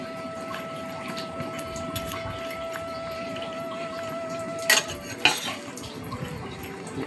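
A spoon stirring an oil-free ridge gourd vegetable curry with lentil fritters in a pot, mostly a low steady hiss with two sharp clanks of utensil on metal near the end; no speech.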